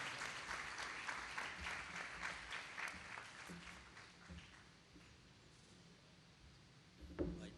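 An audience at a gospel convention in Sialkot applauds to welcome a preacher; the dense clapping is fairly faint and distant, then thins and fades over several seconds.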